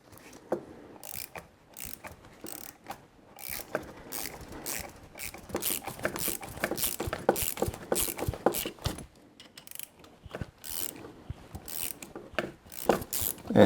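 Chain breaker tool being turned by hand to press a pin out of a motorcycle chain on a KLR650, giving a long run of rapid ratcheting clicks and metallic creaks, uneven in rhythm and close to the microphone.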